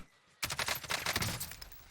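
Sudden gunfire in the video game Warzone breaks out after a brief quiet, a dense burst of rapid shots continuing steadily to the end, with no talk over it.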